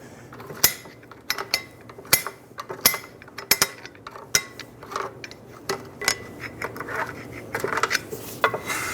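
Screwdriver clicking a rear drum-brake star adjuster wheel on a 2010-2014 Subaru Outback, a close run of sharp metallic ratchet ticks at an irregular pace, some louder than others, with no talking.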